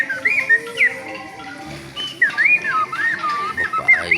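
Someone whistles in a birdlike way, bright chirps and warbling phrases repeated in quick bursts, close and clear, imitating a bird's song.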